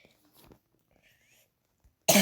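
A single close, sharp cough bursts out at the very end, after a few seconds of faint breathy mouth sounds, from a person playing a mobile shooter game.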